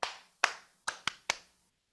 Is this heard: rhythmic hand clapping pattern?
yes